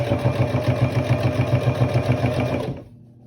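A sewing machine stitches a pot holder in a fast, even, pulsing run that is close and loud, then winds down and stops near the end.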